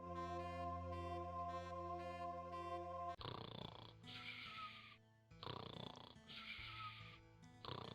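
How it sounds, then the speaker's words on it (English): A character snores in a Final Fantasy VII mod, with two loud, rasping snore breaths following a held musical tone. "Also, nice snoring sound."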